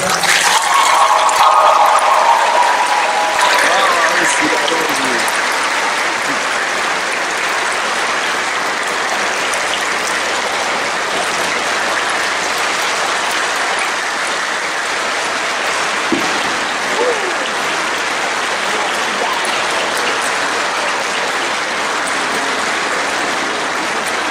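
Audience applause fills the room steadily for the whole stretch, a dense continuous wash of clapping that stays loud and even, with a brief brighter burst near the start.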